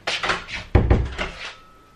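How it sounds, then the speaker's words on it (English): A door being shut indoors during a bedroom tidy-up: a few light scuffs and knocks lead into one firm thud of the door closing at close range, then a short rattle before it falls quiet. "Let me shut the door, you don't need to see that."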